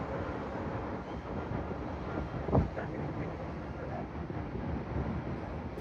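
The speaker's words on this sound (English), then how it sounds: "It's really windy as well" Strong wind buffets the microphone high atop Union Tower in Dallas, a steady, loud broadband roar with a brief gust near the middle and no talk.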